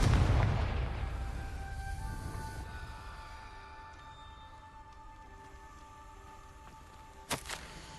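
A Confringo fire spell goes off in Hogwarts Legacy with a loud booming blast at the start that fades into a long low rumble and ringing tones, followed later by a short sharp burst.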